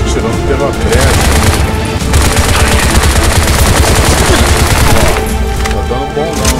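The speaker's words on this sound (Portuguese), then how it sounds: "Eles estão atirando pela brecha." Dense, loud gunfire from the video game Bright Memory, sustained rapid bursts running almost without pause through the whole stretch, with booming impacts mixed in.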